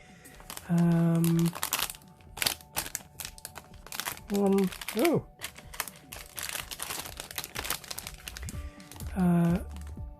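Cardboard scrapes, crinkles and taps as the box of a High Grade 1/144 plastic model kit is pried open, with tonal squeaks of tape or packaging and a voice speaking intermittently.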